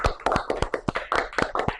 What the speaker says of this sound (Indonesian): Tepuk tangan dong untuk Delson.